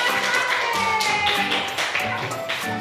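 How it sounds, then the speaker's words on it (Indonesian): A classroom of students claps for a group that came forward, with quick tapping hands under lively overlapping voices and chatter throughout. "Tepuk tangan untuk kelompok yang maju."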